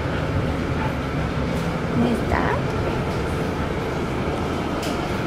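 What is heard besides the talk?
riding a monorail-type train in Pisa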